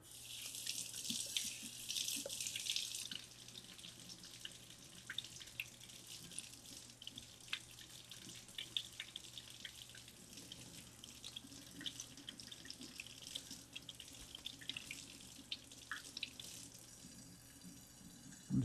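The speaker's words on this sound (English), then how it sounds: "rinse under some cool water really fast. Make sure there's no dirt on them." A kitchen tap runs cool water over zucchinis being rinsed, a faint steady hiss with a louder gush near the start and small splashes of water hitting the vegetables and sink.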